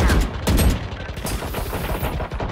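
Dense bursts of Valorant gunfire rattle almost continuously, loud and booming with rapid automatic volleys, a hectic in-game firefight with no talking.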